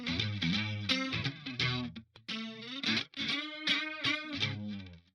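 A distorted, effected instrument sound with a wavering chorus shimmer whose modulation rate varies, playing a continuous melodic line with brief gaps, loud and close.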